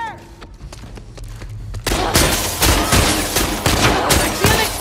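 Sustained gunfire aimed at Nora in The Last of Us Part II, starting with scattered shots and becoming dense, loud volleys from about two seconds in, with voices shouting underneath.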